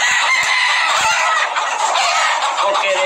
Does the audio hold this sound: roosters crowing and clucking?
yes